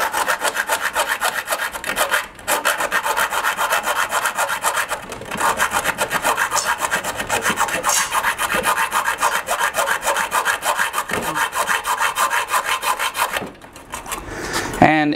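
A cheap hand saw works slowly through material for DTG printer parts with continuous rasping back-and-forth strokes, loud and close, with a couple of brief pauses.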